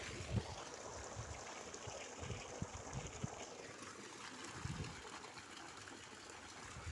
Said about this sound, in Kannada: ನೀರು ಓಡ್ತಾ ಇದೆ ನೀರು ಓಡ್ತಾ ಇದೆ ಗೇಟ್ ವಾಲ್ ಬಂದ್ ಮಾಡೋಣ